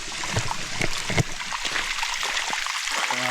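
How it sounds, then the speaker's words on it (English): Rainwater running down a homestead driveway, a steady wet trickling and gurgling with scattered splashy knocks and drips. "I don't regret diverting all that water. You can really see it running down the driveway."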